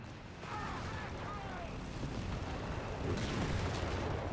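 Artillery fire rumbles in the World War II strategy game Company of Heroes 3, a dense, continuous roar of distant shelling and battle noise that swells slightly near the end.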